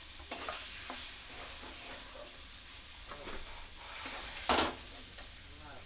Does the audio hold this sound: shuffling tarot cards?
no